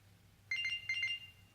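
A Samsung Gear S smartwatch sounds its Find My Gear alert: two short bursts of bright electronic ringtone chimes, clear and close over a faint low hum.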